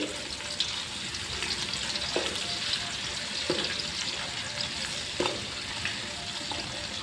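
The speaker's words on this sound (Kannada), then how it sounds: "ಈರುಳ್ಳಿನ ಚೆನ್ನಾಗಿ ಸ್ವಲ್ಪ ಫ್ರೈ ಮಾಡ್ಕೋಬೇಕು" Onions frying in a pan on a home stove for a chicken fry, giving a steady close sizzle with occasional stirring knocks and scrapes throughout.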